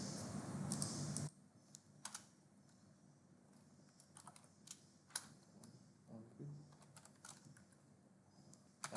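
Fingers type on a computer keyboard, rapid clicking at first, then scattered individual keystrokes and short bursts, close and fairly faint.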